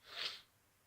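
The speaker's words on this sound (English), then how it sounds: "I'm gonna sneeze." A single person sneezes once in a short, quiet, breathy burst that fades quickly into near silence.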